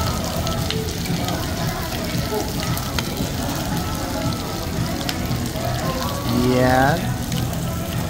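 Pork frying in butter in a pan gives a steady, close sizzle and crackle throughout, with a short voice speaking briefly over it near the end.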